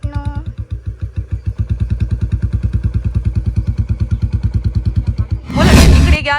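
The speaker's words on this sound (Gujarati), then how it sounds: "અમે બુલેટ લઈને નીકળી ગયા છીએ. જો અમારો બુલેટનો અવાજ." Bullet motorcycle engine starting and idling with a steady, loud thumping rhythm close by, then revving up sharply as the bike pulls away near the end.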